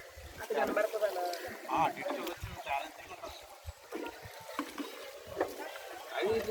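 Oars dip and splash rhythmically in water as a small engineless boat is hand-rowed at Kashi, with voices talking nearby.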